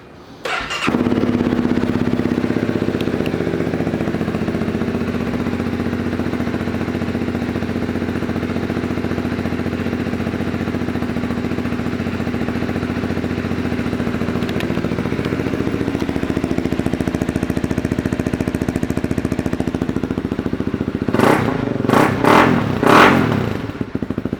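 A 2018 Honda CB300F motorcycle idles steadily at close range, a low even engine hum running for most of the stretch before some brief clattering bursts near the end; no one talks.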